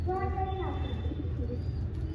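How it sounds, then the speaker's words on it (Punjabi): A pigeon coos close by with a low throaty burble, alongside a faint higher bird call and steady low background rumble. "ਕਬੂਤਰ ਆ ਉਹ ਗੁੜਕਦਾ ਗਿਆ"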